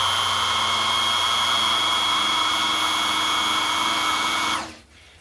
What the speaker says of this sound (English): You'll notice it slows the drill down whenever it starts building pressure.